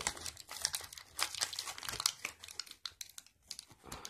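A toy pony's cardboard and plastic box being opened by hand without scissors, with close, continuous crinkling, tearing and crunching of the packaging in quick irregular bursts, no talking.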